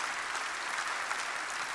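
A church congregation applauds during a sermon, a steady, fairly faint patter of clapping hands lasting about two seconds with no voices over it.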